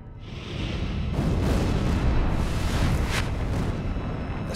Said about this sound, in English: The sound of explosions seemed to go on forever.